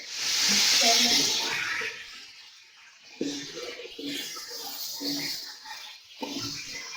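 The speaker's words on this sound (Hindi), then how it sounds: "चिकन को आप अच्छे से फ्राई कर लें" Chicken pieces frying in hot oil in a karahi for dhaba-style chicken karahi, a loud steady sizzle that eases midway and flares again, with a voice talking intermittently over it.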